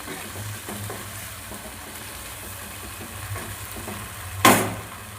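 Chilli chicken with cornflour water and ground pepper sizzles in a pan as it is stirred, a soft continuous fry with faint scraping and a louder splash of sizzle near the end.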